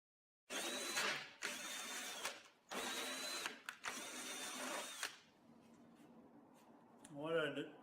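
A cordless drill tapping threads into metal while machining trolley parts, running in several short close bursts with brief pauses between, then a quieter stretch with faint handling noise and a voice at the end.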